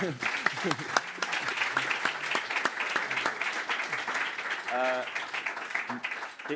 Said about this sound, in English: round of applause for these guys first